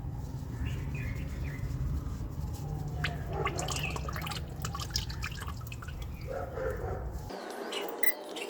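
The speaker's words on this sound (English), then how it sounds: "Some oil may drip out," Irregular drips of old engine oil from a Kia Sportage patter into a drain pan over a steady background hiss, with occasional faint outdoor sounds.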